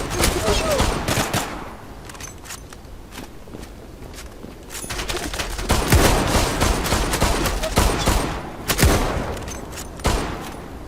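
Rapid bursts of gunfire from a Kar98 shooter video game, with dense fusillade-like volleys and footsteps, loud and continuous across the stretch with brief lulls.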